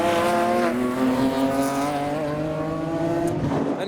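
At a track day, a Porsche Boxster with a large spoiler and a BMW 3 Series pass by with strong tonal engine roars whose pitch slides down as they go, plus loud tire and road noise.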